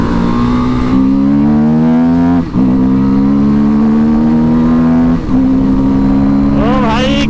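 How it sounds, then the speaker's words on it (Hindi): A KTM Duke 250 motorcycle with a loud aftermarket exhaust screams close up, its engine note climbing steadily and dropping briefly at two gear changes before rising again. "इससे कितनी लाउड आ रही है भाई, चीख रही है गाड़ी एकदम"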